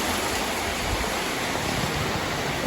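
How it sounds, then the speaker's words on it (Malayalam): Dense, even hiss of heavy rain pouring outside, a continuous broadband wash with no voices. "നല്ല മഴ ഉണ്ട് ഗൈസ് പുറത്ത്."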